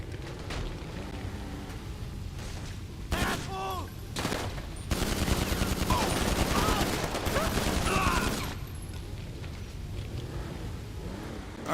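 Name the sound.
AP pistol gunfire in GTA 5 Online video game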